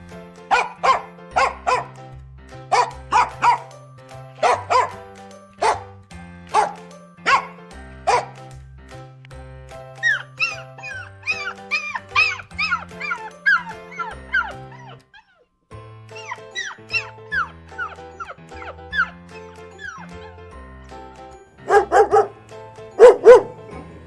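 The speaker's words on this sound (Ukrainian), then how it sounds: "Ось давайте послухаємо, як гавкають різні собачки." Several different dogs bark one after another, loud and close, in separate runs. Some are deep single woofs, others high rapid yips, broken by short pauses with no talk over them.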